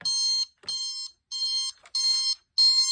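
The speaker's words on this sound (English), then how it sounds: "And there goes the alarm right here." A Sharp SPC1225 digital alarm clock sounds its alarm: loud, sharp electronic beep bursts in an even, repeating pulse, close and alone with no talking.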